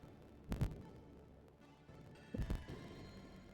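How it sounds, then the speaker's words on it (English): Two heavy, thumping heartbeat pulses from a video game, each a quick double throb about two seconds apart, over a faint low hum. "The sped up heartbeat is kind of vile"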